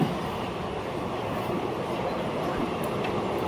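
An express train rumbles along with a steady, loud roar and faint rail clatter, heard from aboard a carriage leaving Bandel, with no voices.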